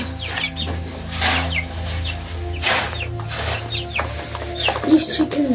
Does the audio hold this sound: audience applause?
no